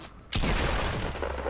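A thermal scoped rifle fires in Fortnite: a sudden loud burst of gunfire breaks a near-silent moment and rings on with a sustained, noisy tail for over a second.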